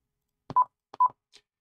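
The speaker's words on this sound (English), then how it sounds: "I'm going to turn the radio's audio up so you can hear it." Audio from a Quansheng handheld radio sitting on its programming dock: two short tone beeps with clicks, then a faint blip, alone over silence.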